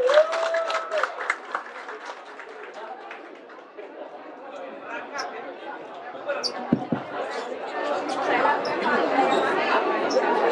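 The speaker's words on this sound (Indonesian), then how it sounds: "Tepuk tangan buat Pak Slamet Subianto." Crowd at a political gathering breaks into applause for a retired general, beginning amid chatter and voices, then swelling into dense, loud clapping and cheering in the final seconds.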